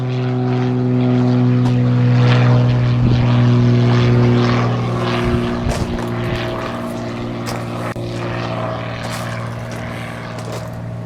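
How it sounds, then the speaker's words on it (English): Several propeller airplanes pass overhead outdoors, a loud steady droning engine hum with strong harmonic tones that swells and slowly fades over the span, with no talking. "wait for those planes to go by."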